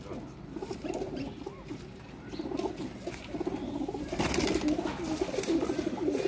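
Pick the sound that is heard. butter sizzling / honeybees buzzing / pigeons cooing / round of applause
pigeons cooing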